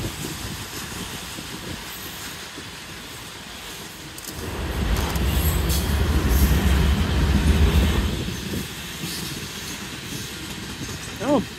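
Southbound CSX mixed manifest freight train with four locomotives passing on track one, a rumbling roar that swells loudly mid-clip and then eases, with a brief squeal at the end.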